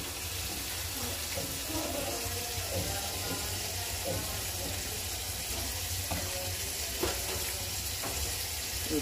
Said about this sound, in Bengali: মুরগির জন্য তেল দিয়ে দিলাম।